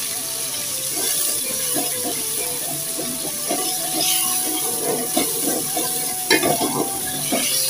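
Oil sizzles steadily in a pan as onions and tomatoes fry for aloo matar, with occasional stirring clinks and scrapes throughout; no talking.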